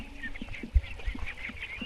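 Ducks quacking in a series of short, rough calls at an irregular pace, moderately close, on a riverbank duck farm, with steady outdoor background noise.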